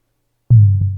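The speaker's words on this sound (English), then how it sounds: "It just sounds like this bassy kind of thud," A noise-gated tom drum in FL Studio 12 gives a single deep, bassy thud that cuts in abruptly after silence and sustains with a long release, close and alone.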